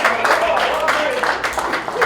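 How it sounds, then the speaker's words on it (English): An audience gives a round of applause to a panel at a reparations discussion; close, continuous clapping runs throughout with voices calling out and talking over it. "let's give another round of applause to this panel"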